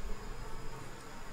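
Honey bees buzz at an open beehive during fall preparation for the nectar flow, a steady, fairly faint hum of many insects close by, with no talking.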